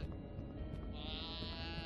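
A goat bleats in the puzzle horror game Count Lucanor, giving one drawn-out, wavering bleat that rises partway through and stays close and clear.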